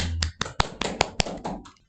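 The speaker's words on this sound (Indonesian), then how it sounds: "tepuk tangan untuk semuanya" Sparse clapping at a university program event, about eight distinct claps spaced unevenly across a couple of seconds, close and crisp before fading to silence, with no voices.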